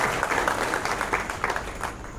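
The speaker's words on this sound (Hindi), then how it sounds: "जो हमारा पुलिस विभाग है उसके लिए आप तालियों से उनका स्वागत करिए" A crowd claps in welcome for the police department at a district police station gathering on new criminal laws in Bhind, a moderately quiet, slightly uneven round of applause.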